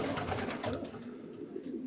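Domestic pigeons coo softly in a loft, low murmuring calls rolling together over a brief stretch, fairly faint and close with no talk.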